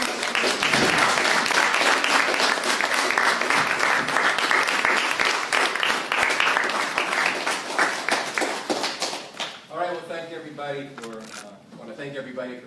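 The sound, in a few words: applause welcoming speaker Andy Z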